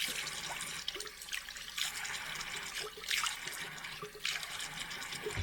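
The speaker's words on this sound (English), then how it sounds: "let me just get this soap off" A tap runs steadily into a sink while soap is rinsed off hands, giving a continuous close hiss and splash with small surges as the hands move through the stream.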